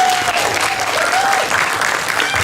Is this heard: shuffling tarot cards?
no